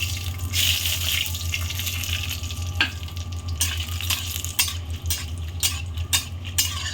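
Bay leaves and dried chillies hitting hot oil in a kadai already holding cumin seeds, a dense loud sizzle over a steady low hum, with scattered crackles and a few sharper clatters near the end.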